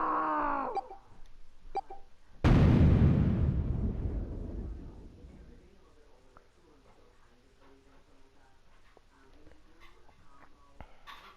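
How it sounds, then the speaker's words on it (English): An explosion in the video game Zero Escape: The Nonary Games bursts in as a sudden loud, deep boom that decays slowly into a rumbling tail, following brief voice sounds at the start. "The explosion rocked the room."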